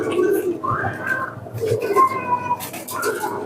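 Domestic pigeons, golden teddy-type birds kept at home, cooing in soft rolling phrases close by, with people talking at the same time.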